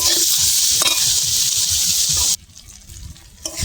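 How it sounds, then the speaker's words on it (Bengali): Onion and tomato masala with salt and turmeric fries in a pan over a low clay-stove flame, with a loud, steady sizzle and scraping stirs that cut off abruptly to near quiet. "পেঁয়াজটা ভালো করে ভাজা হয়ে গেছে, টমেটোটাও ভালো করে ভাজা হয়ে গেছে।"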